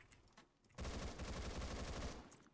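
A binary-fire gun in the Phantom Forces shooting game fires a fast, dense burst of shots for about a second after a quiet start, loud and rapid, then cuts off with no speech.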